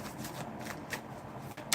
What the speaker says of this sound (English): let's get some oracle cards.